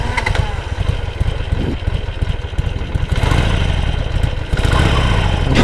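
Harley-Davidson Iron Sportster 883 V-twin starting, then running with a loud, close, uneven lumpy rumble and a mechanical clatter, rising into a fuller throbbing idle.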